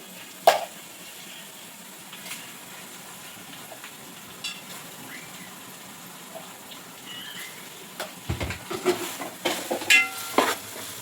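Onions, green chillies and ginger paste fry in a pan for a goat head curry, a low steady sizzle with scattered spoon and pan clinks that grow busier and louder near the end.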